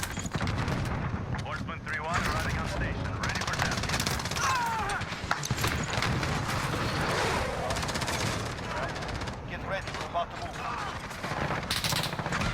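Rapid, continuous Kilo 141 assault rifle gunfire in Call of Duty multiplayer, dense bursts and explosions filling the mix at steady high loudness with little pause, while a voice talks faintly underneath.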